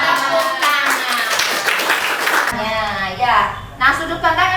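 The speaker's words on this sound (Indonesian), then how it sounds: "Tepuk tangan." Children in a classroom clap their hands together in a dense burst for about two and a half seconds, followed by children's voices talking and answering.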